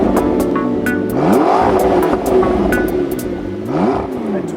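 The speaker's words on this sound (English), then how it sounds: "Especially as this is the McLaren sports exhaust system." A McLaren MP4-12C engine revs repeatedly through its titanium sports exhaust, the note rising in sharp sweeps and settling back, loud and close with a rough burbling tone.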